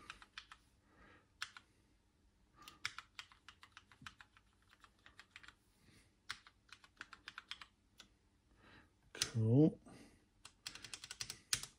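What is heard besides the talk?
typing on a COMX-35 computer keyboard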